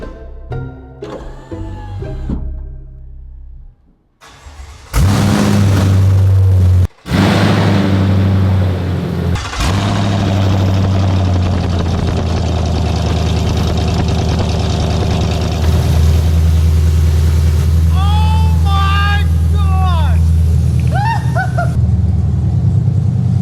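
Chevrolet Silverado truck engine with open headers cranking and firing up, then idling loud and steady with a deep, rumbling drone that fills the space, with some squeaky rattles partway through.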